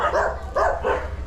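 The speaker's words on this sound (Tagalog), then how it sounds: "Ang lalaki ng dog." Big dogs barking in a short volley of loud, close barks, three bursts in quick succession with brief gaps between them.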